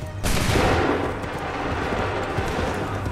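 A musket volley fired by a line of soldiers in Assassin's Creed III at Lexington and Concord, one sharp loud crack followed by a long rumbling, smoky tail and distant battle noise, with no speech.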